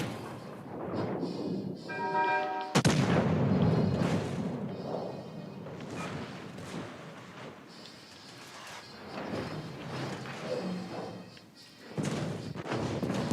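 Naval guns fire from a warship in a video game: one sudden heavy boom rolls into a long rumble, followed by further thuds and a final sharp blast near the end.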